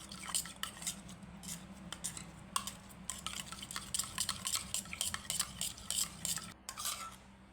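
A spoon stirs sweetened curd cream in a bowl for lassi, giving soft, irregular scraping and clinking taps over a quiet low hum, fairly close and without talk.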